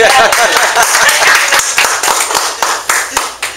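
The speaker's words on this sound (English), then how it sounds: "Let's give her a big round of applause just for being here" Applause from a small group at a weekly networking meetup, brisk irregular clapping up close that thins to a few scattered claps, with a voice faintly underneath.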